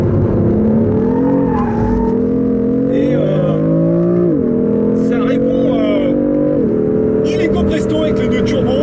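A BMW with a six-cylinder twin-turbo engine revs loudly and continuously up close, its tone rising and dropping through several gear changes, with occasional bursts of tire and exhaust noise.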